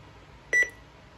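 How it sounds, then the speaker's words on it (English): A single short electronic beep from a Milton Bradley Max Backtalk toy sounds clearly and close, standing out briefly against a quiet background. "So it will do a couple of beeps"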